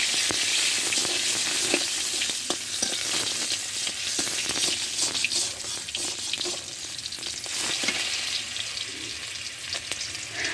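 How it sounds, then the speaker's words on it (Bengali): One dried chili and two chopped onions sizzle and spit in hot oil in a Bengali home kitchen, a loud, continuous frying crackle with scattered sharper pops throughout and no talking. "তেল দেওয়ার পরে আমি একটি শুকনো মরিচ আর 2টি পেঁয়াজ কুচি দিলাম।"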